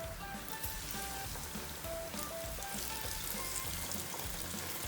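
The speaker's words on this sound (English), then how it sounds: "So I'll just deep fry right now and show you. So the oil is nice and hot. Put the yam pieces." Yam pieces deep frying in hot oil, a faint, steady hiss and fine crackle of bubbling oil running unbroken for several seconds with no voices.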